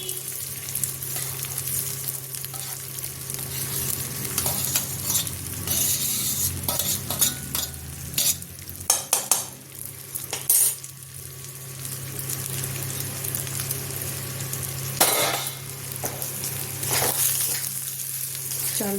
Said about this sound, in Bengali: চালটা দিয়ে ভালো করে ভাজবো